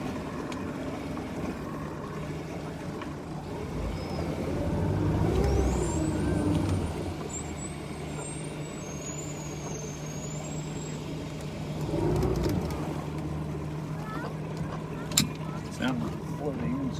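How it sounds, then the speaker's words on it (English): A Ranger VX1788 boat backs off its trailer into the water in reverse, giving a steady low engine rumble that swells twice, with faint high squeals above it, close by. "So I'm gonna try to back up off the trailer with the reverse."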